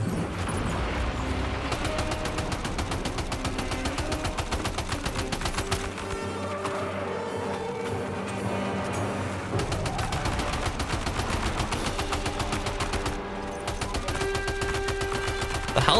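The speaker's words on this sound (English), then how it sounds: "Let's go for the grenade launcher." A grenade launcher fires in the video game Death Stranding 2, with dense, continuous gunfire and explosions mixed with game music that keeps a loud, unbroken wall of combat sound.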